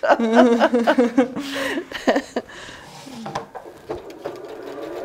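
Sewing machine stitching quilt fabric in short quick bursts of whirring needle rhythm, close and clear, broken by pauses, with a person chuckling and talking quietly.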